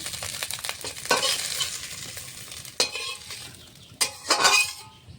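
Mustard oil sizzles in a wok where small fish have been fried, with steady frying hiss broken by a few sharp clinks and scrapes of a utensil against the pan.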